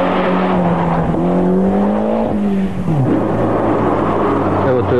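Rally car at speed on a timed stage in a 1997 rally, engine note climbing through gears and dropping on a shift, with a commentator talking over it throughout.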